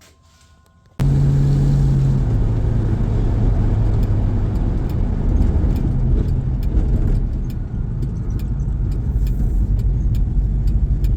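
A car with a 318 V8 engine fitted with a 2-inch carburetor spacer starts up and drives, its steady loud engine drone and exhaust rumble running continuously with slight shifts in pitch as it pulls along.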